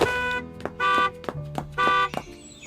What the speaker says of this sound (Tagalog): Bumubusina na ang kotse.